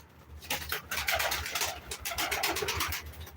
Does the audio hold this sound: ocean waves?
no